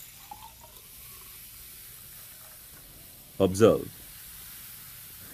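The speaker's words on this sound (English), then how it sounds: "As soon as you add vinegar to the baking soda, you will see that some gas is released almost immediately." Vinegar poured onto baking soda in a school chemistry experiment gives a short, close fizzing hiss that rises and fades within about half a second, following a single spoken word.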